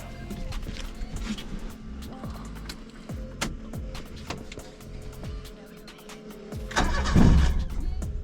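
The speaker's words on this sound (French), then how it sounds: "je pense qu'avec un coup de clé, ça devrait démarrer" A Fiat Panda with a fuel-supply fault cranks on the key in repeated short bursts of starter whirring and engine turning, ending in a louder surge near the end, with no talking.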